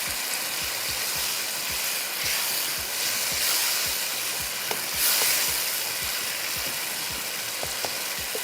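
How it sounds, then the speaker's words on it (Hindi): Spinach with onion and dal sizzles steadily in a hot pan while a spoon scrapes and stirs in a regular rhythm, the soft fry hiss continuous underneath the repeated strokes. "ताकि हमारी पालक जो है ना बहुत अच्छे से भून जाए"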